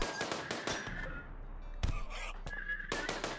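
Gunshots ring out during an ambush in a video game: a rapid cluster of sharp cracks opens, then a lull with a lone crack, followed by more scattered shots, fairly faint over low background noise.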